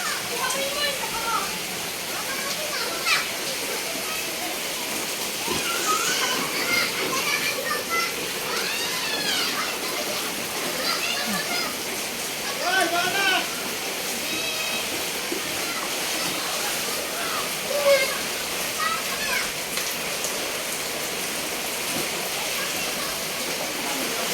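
Steady heavy rain and rushing floodwater on a street, with children's voices and splashing sounds mixed in throughout.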